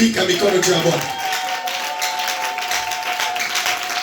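Church congregation applauding and cheering, a dense wash of clapping with voices rising over it, fairly loud and steady throughout.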